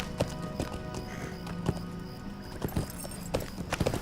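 Horse hooves clip-clop at a steady trotting rhythm in the LOTRO video game, a run of close, evenly spaced hollow knocks over ambient game sound.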